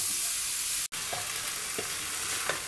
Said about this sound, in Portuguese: E vamos fritar esse tomate aqui um pouquinho também